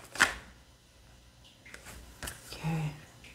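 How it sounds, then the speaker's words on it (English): A few quick riffles and soft flicks of tarot cards being shuffled, close and quiet, in short bursts with pauses between. "I'm just going to shuffle these one more time"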